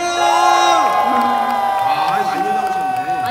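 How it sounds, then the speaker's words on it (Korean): Audience at an outdoor music festival by a river in Hongcheon cheering and whooping loudly and continuously, with a voice talking over the crowd noise. "박수 한번 보내주세요"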